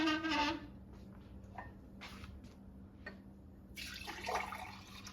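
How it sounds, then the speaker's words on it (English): Celery juice is poured into a glass in a kitchen, with short bursts of splashing liquid that break off and then return as a longer, fuller pour near the end. "So that's the celery juice. I'll pour it into a glass."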